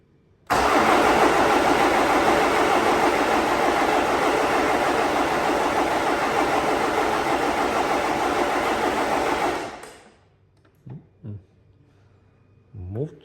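A BMW M47 diesel with a Bosch VP44 injection pump is cranked on a second attempt and catches. It runs loud and steady up close for about nine seconds, then shuts off abruptly, followed by faint clicks and knocks.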